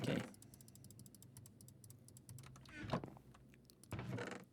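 Quick, light clicking of keys on a computer keyboard, fairly faint and steady, broken by a few louder bursts of noise.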